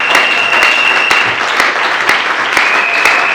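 An audience at a church gathering claps loudly and solemnly, a dense close burst of applause with sharp individual claps standing out, while a thin whistle-like tone runs through it.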